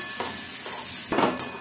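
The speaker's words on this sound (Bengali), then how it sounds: "সুন্দর করে মিশিয়ে খুব ভালো করে নাড়াচাড়া করে নিচ্ছি" Greens with sesame seeds and slit green chillies frying in a pan, stirred with a few scraping strokes over a steady, close sizzle.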